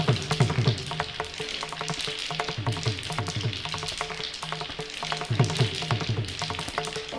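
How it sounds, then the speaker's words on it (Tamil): Tamarind extract boils in a pan for temple-style tamarind rice, bubbling and sizzling steadily throughout with a soft, regular churning texture and no voices. "புளி கரைச்சல் விட்டாச்சு, இது நல்லா கொதித்து வரட்டும்"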